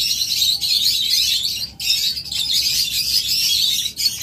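A pair of caged lovebirds, a lutino red-eyed Fischer's and an opaline cobalt, keep up loud, shrill chirping and twittering nearby, with brief pauses in the chatter.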